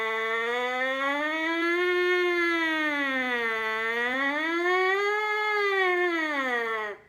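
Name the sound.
trumpet glissando siren from low to high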